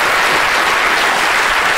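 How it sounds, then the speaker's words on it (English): A studio audience bursts into loud, dense applause after a quiz reveal, steady and continuous with no break, many hands clapping at once close by. "Big round of applause for those who got subject A."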